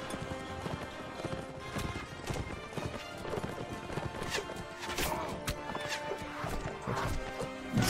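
In the video game Mount & Blade Warband, a horse gallops with dense, rapid hoof clatter amid battle clashes, with whinnying mixed in, loud and busy throughout.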